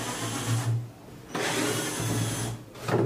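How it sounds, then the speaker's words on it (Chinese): Powered screwdriver or drill whirring in bursts while four screws are backed out of the top cover plate of an appliance, two long steady runs separated by a pause, then a short final burst; close and fairly loud. "4条螺丝拆完以后，咱们这个上盖就可以打开了。"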